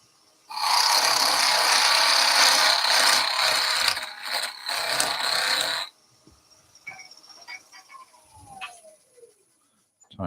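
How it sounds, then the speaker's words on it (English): A wood lathe parting tool cuts into a turned workpiece, giving a loud, steady scraping roar for about five seconds that stops abruptly, leaving faint scattered clicks and light background sounds. "Let's go for a slightly bigger parting tool."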